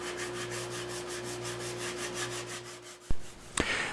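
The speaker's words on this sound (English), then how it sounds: "When I hand sand" Wood being hand sanded with P-grade sandpaper for an electric violin build, regular back-and-forth rubbing strokes, close and soft, followed by two sharp knocks near the end.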